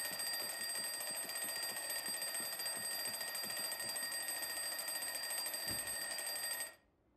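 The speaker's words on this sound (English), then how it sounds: "Oh my goodness, the alarm is so loud as well." A loud alarm clock rings in the zombie survival game Project Zomboid, a continuous shrill electronic tone with steady harmonics that holds at full volume, then cuts off abruptly near the end.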